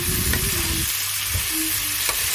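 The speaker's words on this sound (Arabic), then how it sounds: "نشوح الخضروات شوي مع بعض" Broccoli and mixed vegetables sautéing in a pan, cooked for chicken with mushrooms, make a constant close sizzle broken by a few soft stirring scrapes.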